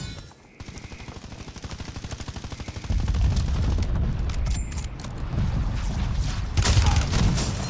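Rapid automatic gunfire in the Warzone video game, a fast steady stream of shots that grows louder and heavier partway through and carries on with dense bursts to the end.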